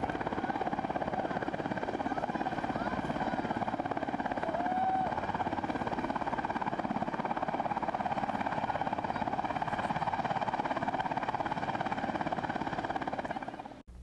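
A Bell 407 helicopter flies a simulated rescue, its steady rotor and turbine drone loud and continuous throughout before cutting off at the very end.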